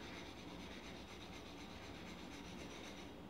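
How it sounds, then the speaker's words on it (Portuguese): Dry Bombril steel wool scrubbing enamel-marked burner caps from a Dako Supreme stove, a steady continuous rasping and rubbing close by, quiet and unbroken with no talking. "Você vai pegar o bombril e você vai esfregar."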